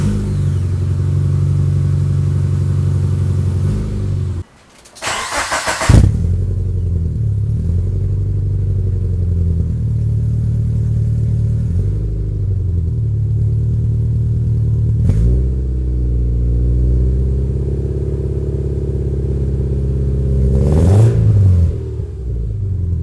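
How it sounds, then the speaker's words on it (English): A Subaru car with an overheating problem cranks, catches and idles loudly up close, with engine revs rising and falling around the fifth second and again near fifteen and twenty-one seconds. "now you guys get to see the magical Subaru start"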